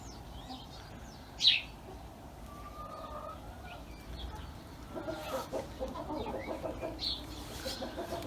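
Brahma chickens outdoors on a farm in Afyon let out one loud squawk early on, then settle into a run of soft, repeated clucking over a quiet open-air background.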